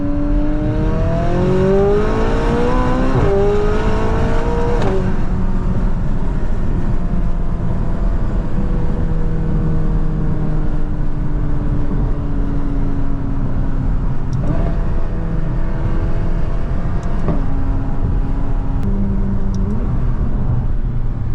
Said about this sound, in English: Second gear right about 40. Get the turbos to build up.